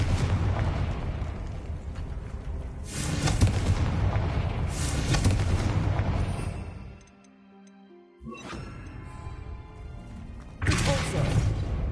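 Confringo blasting spells boom in the Hogwarts Legacy video game as loud, broad explosive bursts in several rough waves, with a brief quiet gap midway before the blasts resume.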